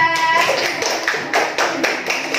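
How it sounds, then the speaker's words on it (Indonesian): A class claps for group 2 after its presentation, a rhythmic burst of hand claps in steady repeated beats, close and moderately loud, with a voice briefly audible at the start. "Kasih tepuk tangan untuk kelompok 2."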